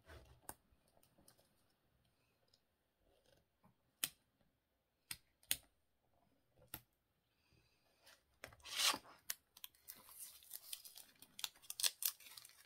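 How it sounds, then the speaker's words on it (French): Packaging paper being peeled and torn, with a few sharp isolated rips early, then a denser run of crinkling and tearing, close but fairly quiet, no talking. "Et on va déchirer un petit peu."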